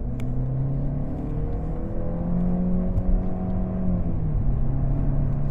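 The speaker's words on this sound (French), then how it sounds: "Vous entendez, la sonorité est quand même assez désagréable et le moteur a tendance à mouliner" A Mercedes C-Class hybrid engine revs up steadily under acceleration, a droning, whirring tone that rises in pitch over a constant low rumble, with no voices.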